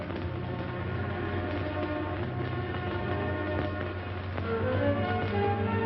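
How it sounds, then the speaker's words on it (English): A steady, heavy rumble of a subway train running along the tracks, continuous and close, with a few brief higher tones rising near the end. "The subway."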